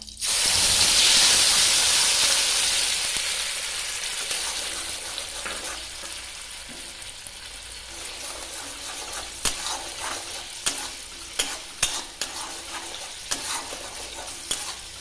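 A paste of ginger, garlic, onion, tomato and green chili hits melted butter in a pan with a loud hissing burst of steam that slowly settles into steady frying, then spoon scrapes clack repeatedly as it is stirred.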